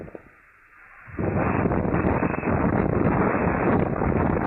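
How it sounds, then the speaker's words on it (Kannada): Strong wind gusting across flattened banana fields in Koppal after a rainstorm, a quiet lull for about a second and then a loud, steady roar buffeting the microphone to the end. "ವಿಪರೀತ ಗಾಳಿ,"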